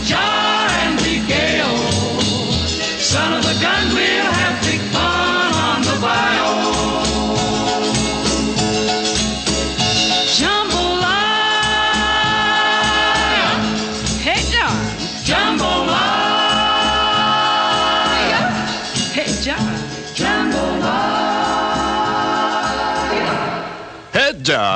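A 1952 recording with an orchestra plays at full, steady volume: a voice sings over a busy band with sustained horn or string chords, running throughout without pause.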